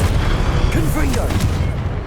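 Confringo blasting curse detonating in Hogwarts Legacy, a dense booming explosive roar that fills the whole moment loudly, with a few higher crackling flourishes and a voice talking faintly underneath.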